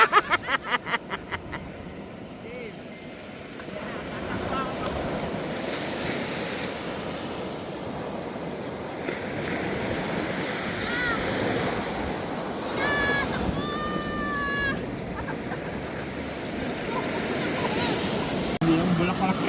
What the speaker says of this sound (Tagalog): pinaglaruan namin ang mga malalaking alon dito sa gilid ng beach